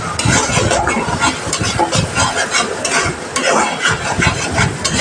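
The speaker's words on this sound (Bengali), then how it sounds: "তারপর আরেকটু নাড়াচাড়া দিয়ে আরেকটু কষাবো।" Spices with turmeric and chili powder are stirred and fried for a rohu fish curry, a loud close sizzle with rhythmic scraping strokes repeating throughout.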